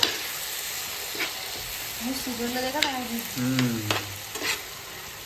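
Bombil (Bombay duck fish) bhurji sizzles and frys steadily in a pan while being stirred, with close scraping and a brief faint voice partway through.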